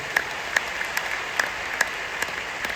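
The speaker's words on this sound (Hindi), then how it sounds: "तो कैसी ताली होनी चाहिए हम लोग इंडिया के लिए।" Audience clapping at a large crowded indoor seminar in Patna, a steady patter of many hands with a few sharper claps standing out, heard alone for a few seconds.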